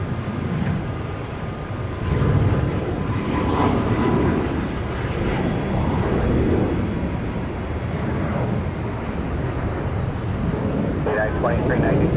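An airplane taking off from the runway at Tampa airport gives a loud, continuous low engine roar that swells slightly, with radio voices heard over it.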